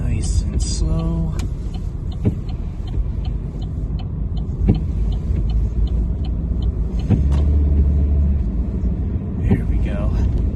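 Car crawling through backed-up traffic in bad weather, a steady low engine and road rumble throughout with faint voices and small knocks over it.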